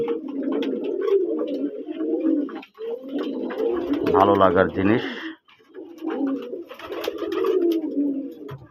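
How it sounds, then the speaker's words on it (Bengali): Native Bangladeshi pigeons of the deshi colouring rajgolla type cooing in a loft on a Manikganj farm, a loud, repeated throaty coo rising mid-clip while someone talks steadily over most of it. "আমার লফটের কবুতর দেশি কালারিং রাজগোল্লা মাশাল্লাহ"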